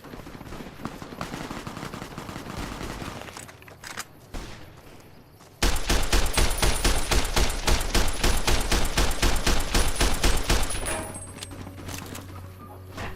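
Rapid gunfire from mercenaries in a shooter game: scattered shots at first, then a loud sustained burst of automatic fire with fast, evenly spaced rattling reports, tapering off toward the end.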